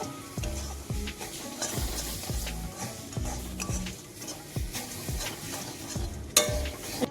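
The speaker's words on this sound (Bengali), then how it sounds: "এটাকে একটু নাড়িয়ে নেব যতক্ষণ না সুজিতে পুরো ম্যাঙ্গোটা মিশিয়ে যায়।" A spoon stirs mango into semolina in a pan, making repeated rhythmic scrapes and soft sizzles at a steady pace, close up, with no talking.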